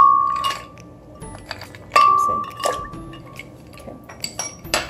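Ice cubes drop into a glass of instant cold coffee, giving several sharp clinks and clatters up close, loud and spaced out, with bright ringing glass tones between hits.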